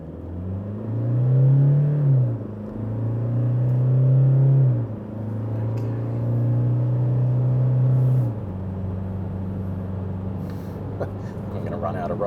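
A 2023 Toyota HiLux SR5 ute accelerating hard in power mode toward 120 km/h, its engine droning loudly with rising and falling pitch through gear changes before settling into a steady cruising hum.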